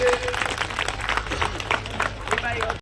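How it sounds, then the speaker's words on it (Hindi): An audience claps loudly to welcome a guest at a petrol pump inauguration event in India. Dense, steady applause fills the scene with crowd murmur, then stops abruptly. "जोरदार ताली बजा करके प्रदीप जी का स्वागत करिए"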